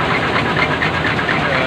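A combine harvester engine runs in a loud, steady rumble with a rough knocking texture, close by and continuous, with a voice talking over it.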